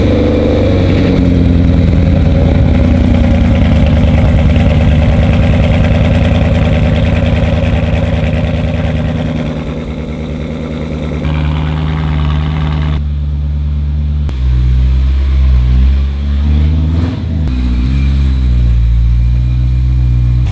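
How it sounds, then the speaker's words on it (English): A BMW E91 M3 engine cold-starts after an oil change, then settles into a loud, steady high idle that drops and wavers partway through, recorded close up with no talking. "Let's get that cold start up."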